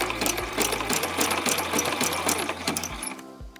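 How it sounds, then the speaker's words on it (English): Sewing machine running a wide zigzag stitch along a waistband, a continuous fast mechanical chatter with a low motor hum that slows and stops near the end. "I'm just going to sew straight down."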